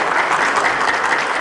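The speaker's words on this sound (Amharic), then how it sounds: "እስኪ ዛሬ አዲስ የመጣችሁ ሰዎች አጨብጭቡ።" A church congregation at a sermon bursts into dense, sustained clapping, a loud even wash of many hands with no pauses.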